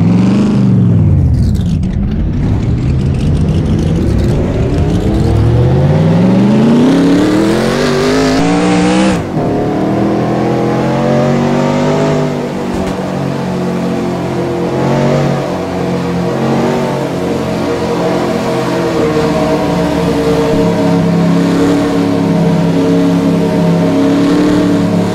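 Loud race car engines in the NASCAR Racing 2003 game with the Car of Tomorrow mod roar and rev continuously, with doppler-like pitch sweeps as cars pass and accelerate, a steady wall of motor noise throughout.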